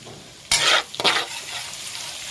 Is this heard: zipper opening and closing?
no